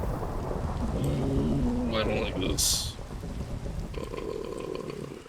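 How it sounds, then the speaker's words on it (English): Rain pours down steadily during a thunderstorm in the Minecraft video game, with a rumble of thunder partway through, while a person talks over the storm. "it's a thunderstorm."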